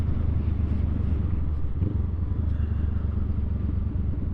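A 2021 Honda Rebel 500 SE motorcycle engine drones steadily while riding, a loud continuous low rumble mixed with wind buffeting, no pauses.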